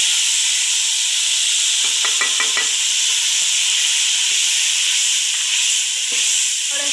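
Garlic, cumin seeds and tomato frying in hot oil for a kadhi pakora tadka, a steady close sizzle with a few stirring scrapes and clatters throughout.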